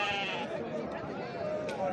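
Sheep at a weekly rural livestock market in Morocco bleat repeatedly amid crowd chatter and nearby voices, their wavering cries blending with the busy background of the market.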